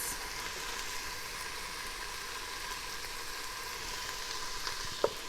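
Chili powder blooming in hot oil gives a steady, moderately quiet sizzle with fine crackle throughout, plus one brief sharp tick near the end; no voices.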